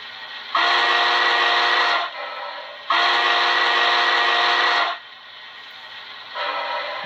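A Hancock step top three-chime steam whistle from a Soundtraxx Econami steam DCC decoder blows loud and steady in two long blasts, each about one and a half to two seconds, with a softer sound starting near the end.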